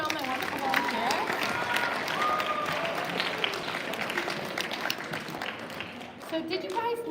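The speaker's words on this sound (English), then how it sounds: "Can I get one more round of applause for all my wonderful volunteers?" Sustained applause and clapping from a theater audience for the volunteers, dense and steady throughout, with crowd noise mixed in and a few voices briefly audible over it.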